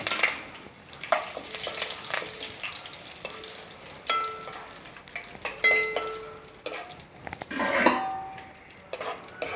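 Cashews and curry leaves frying in hot oil for a flattened-rice dal mixture snack, with a steady close sizzle broken by repeated clinks and scrapes of a spoon stirring against the pan.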